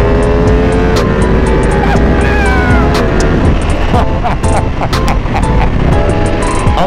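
A Ducati Panigale V2 sport motorcycle accelerates hard, its engine note climbing in pitch and dropping sharply on quick-shifter upshifts, loud and continuous with wind rush throughout.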